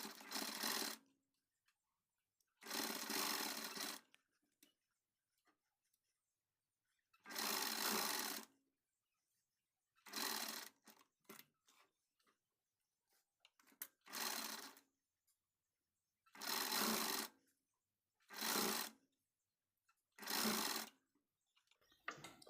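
A sewing machine stitches lace onto a blouse sleeve in about eight loud, rapid whirring bursts separated by silent pauses.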